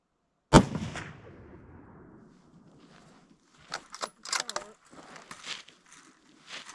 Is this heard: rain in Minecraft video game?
no